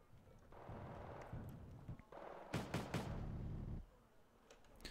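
Grenade launcher rounds thump down on infantry in the Wargame Red Dragon strategy game, a few muffled bursts and rumbling blasts, then a quick cluster of sharp cracking impacts, moderately loud with no talk.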